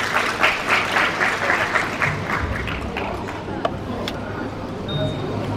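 Audience applause at a school honouring ceremony for ninth-grade students, a strong crowd clap that gradually thins and fades over several seconds, with faint voices and murmur beneath.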